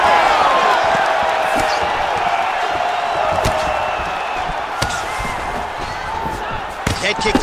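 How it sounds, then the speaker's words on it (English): Video game arena crowd from a UFC 5 simulation fight between Anderson Silva and Israel Adesanya, roaring steadily with swelling cheers and oohs throughout, loud and continuous with occasional sharp impact hits, a commentator talking over it. "You hear this crowd just eating out of his hand, ooing and on every time he advances."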